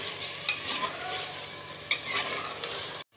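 Onion with garlic-ginger paste fries in a pan for chicken nihari, giving a steady close sizzle with occasional scraping stirs of a spoon, ending abruptly.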